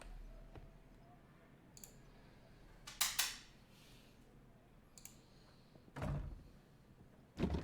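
A chair wedged against a door in a Sherlock Holmes game: scattered clicks and wooden knocks, then a heavier thunk and a final bump, close and clear against a quiet background.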